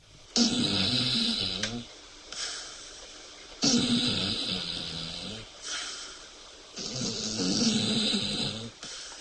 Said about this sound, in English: Stan is an absolute snoring monster